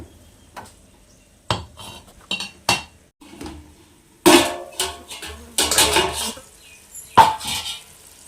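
A pot of cooked rice is handled on the stove, with sharp metallic clinks and scrapes of cookware and utensils in irregular bursts, separated by quiet gaps, close and moderately loud.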